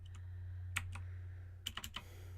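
Keys on a computer keyboard are typed in a few quick, light clicks, one isolated tap followed later by a short cluster of keystrokes over a constant low electrical hum.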